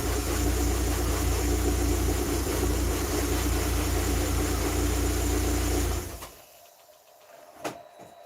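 A car engine idles unevenly on a cold start inside a closed garage, a loud steady drone that stops abruptly, followed by a faint knock or click in the quiet.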